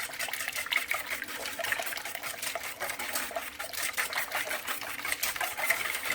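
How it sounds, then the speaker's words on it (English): Cornbread batter ingredients whisked together in a bowl for a skillet blueberry cornbread, a fast steady rhythmic clatter of the whisk against the bowl, close and moderately loud, with no talking. "now we will whisk those together"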